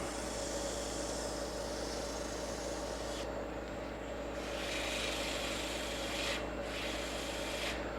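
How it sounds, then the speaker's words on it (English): Sandpaper rubbing on a turned wooden oil lamp on a running lathe, a steady abrasive hiss over a constant motor hum, with brief changes in pressure midway. "Okay, we're going to start to sand this."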